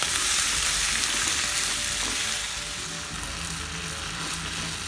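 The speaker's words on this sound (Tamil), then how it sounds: "கொஞ்சம் கருவேப்பிலை, ஒரு 2 நிமிஷம் காயெல்லாம் நல்லா வதங்கட்டும்." Vegetables sautéing with curry leaves in a pan for Tirunelveli tiffin sambar, a loud, dense, close sizzle that eases slightly midway, with a few stirring scrapes and no voices.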